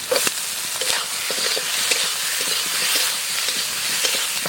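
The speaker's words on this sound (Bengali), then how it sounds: "আলুটা মশলার সাথে একটু কষাবো" Potatoes sauté with turmeric, salt, spices and green chillies, a close, steady sizzling hiss with brief knocks and scrapes of stirring, loudest at the very start.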